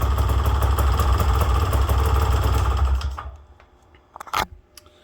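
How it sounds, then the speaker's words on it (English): A 1994 Polaris 400L 4x4 ATV engine idles steadily at close range, then drops away into quieter rattling and a few clicks and clunks near the end. "Now it's sitting here at an idle, barely operating at all."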